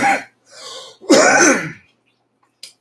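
A person clears their throat loudly and close up in a few rough, rasping bursts, followed by a short faint click.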